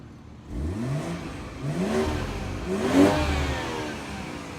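A 2018 BMW X3 M40i engine revs up in repeated rising surges, three accelerating pulls climbing in pitch, loud and close with no talk over it.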